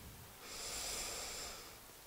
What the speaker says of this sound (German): atmen mal tief ein